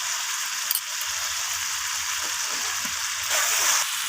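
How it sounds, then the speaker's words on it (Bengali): Chicken with ginger and garlic paste sautéing in a pan, a steady close sizzle and crackle with faint stirring scrapes, growing slightly louder near the end, no voices. "তো আমি এখানে আদা রসুন সমস্ত কিছু দিয়ে এখানে ভালোভাবে কষাতে থাকছি এইভাবে"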